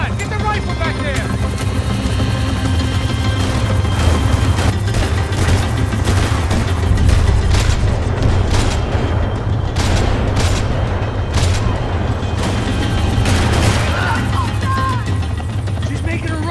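Constant gunfire in Max Payne 3 during a chase, dense and loud, mixed with engine roar and explosions, with people shouting over it.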